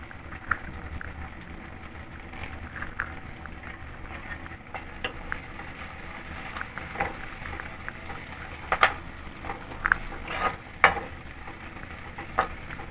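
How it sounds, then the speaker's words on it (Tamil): Capsicum and curry leaves sautéing in a pan for a fish curry, a soft continuous sizzle with scattered stirring scrapes and a few sharper pops, close and without speech. "இது இன்னும் கொஞ்சம் வதங்கட்டும். இப்போ இதில் கருவேப்பிலை போட்டுக்கலாம்."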